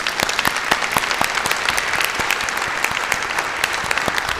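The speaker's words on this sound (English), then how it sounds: "Give yourselves a round of applause." A school board meeting audience claps steadily, a dense, even wash of many hands that stays loud and unbroken from start to finish, with no voices over it.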